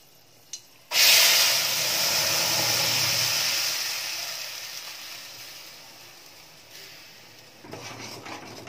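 Bottle gourd leaf paste drops into hot mustard oil seasoned with black cumin in a pan, setting off a sudden loud, close sizzle that slowly fades to a steady hiss, with a clink of cookware near the end.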